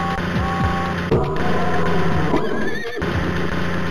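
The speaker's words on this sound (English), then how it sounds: "Let's load three horses on James." Cartoon horses neigh in a Thomas & Friends circus video game, several whinnies in succession over a busy electronic game backdrop with mechanical beeps.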